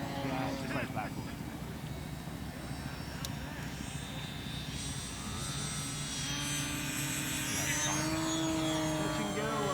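Hangar 9 OV-10 Bronco 30cc RC model airplane doing a right-to-left touch and go, its engine droning steadily and rising in pitch as it passes, with people talking over it outdoors.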